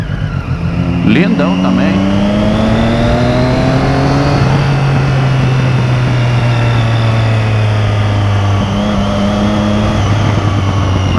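A Chevrolet Opala SS classic car drives past close by with a loud, steady engine note that revs and rises, while people talk excitedly over it.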